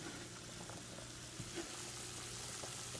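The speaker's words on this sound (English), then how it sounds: "And the water boiling like that is what you want?" Water bubbles at a rolling boil in a pot for Hungarian dumplings, a steady, faint hiss and churn with soft pops, without speech.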